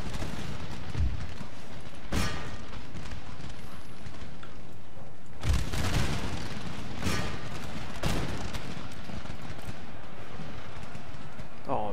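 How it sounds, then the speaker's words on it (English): Musket volleys and artillery fire boom across an Empire: Total War battlefield, a series of sharp, spaced cracks and heavy thumps over a constant low battle rumble, with someone talking throughout. "Keep firing, lads!"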